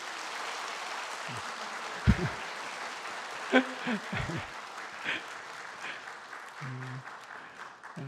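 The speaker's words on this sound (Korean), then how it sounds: "환영의 큰 박수로 함께 환영해 주시길 부탁드립니다." A church congregation at a Sunday service applauding in welcome, a steady patter of clapping at moderate distance, with a few brief voices and thumps over it.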